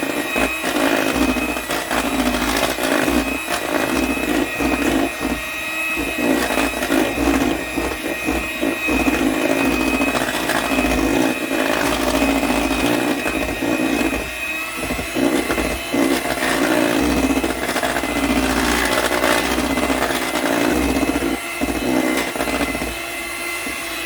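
Electric mixer whirring continuously as it beats icebox cake filling, a loud steady motor drone with a gritty texture, running alone throughout.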